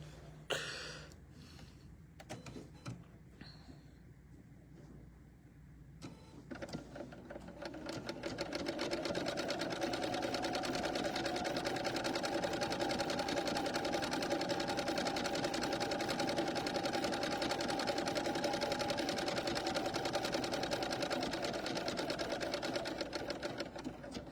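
A sewing machine runs with a steady, loud whirring hum for the last two-thirds of the clip, close by. Before it starts there are quieter handling clicks and rustles.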